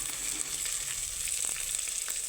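Sweet corn, tomato pieces and poha sizzle steadily in a hot pan, a continuous close frying hiss with a couple of faint stirring knocks, no voices.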